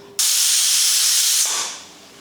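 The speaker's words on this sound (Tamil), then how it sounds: "இப்போ குக்கர் மூடி போட்டு அஞ்சு விசில் விட்டு ஆஃப் பண்ணிக்கலாம்" A sudden loud burst of steam hisses sharply from a pressure cooker cooking mutton biryani, holding steady for over a second before tapering off.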